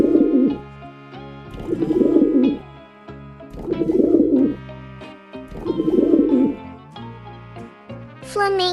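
A pigeon coos in four evenly spaced, low throaty phrases, close and fairly loud, over soft background music.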